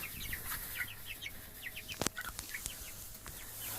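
Broiler chickens in a coop cluck and chirp in short repeated calls, fairly soft and slightly distant, with a couple of sharp knocks partway through.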